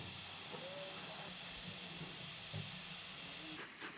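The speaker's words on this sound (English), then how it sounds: "Note the steam rising from the blower to protect the fireman while he carries out this duty." Steam hisses steadily from the blower of a preserved S&D Trust steam locomotive on the West Somerset line, a constant faint hiss with a few brief knocks and a sharp change near the end.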